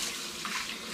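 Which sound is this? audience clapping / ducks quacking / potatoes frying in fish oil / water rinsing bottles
water rinsing bottles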